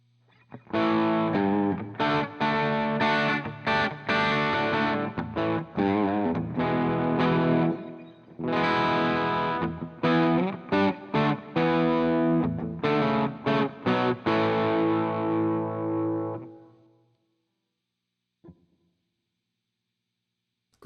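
A distorted electric guitar picked with a thin gray Dunlop pick plays loud, sustained chords and riffs, then fades out, leaving near silence with a couple of faint clicks.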